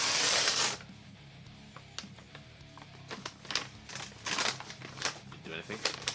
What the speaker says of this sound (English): Let's tear this open then.